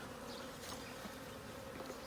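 Honeybees droning steadily around an open hive during an inspection, a faint, even swarm hum with no break and no voices.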